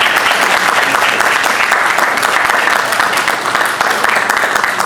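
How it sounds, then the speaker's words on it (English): An audience claps after a formal debate on the resurrection of Jesus, loud and closely packed hand claps sustained evenly throughout, with no speech over them. "let's give them one more round of applause"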